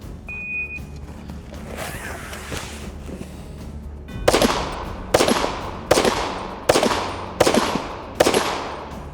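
Six pistol shots ring out at a steel plate rack from the 25-yard line in a Bianchi-style shooting event, spaced about a second apart and loud and sharp, each followed by a brief metallic ring. A shot-timer beep and quieter background noise come before them.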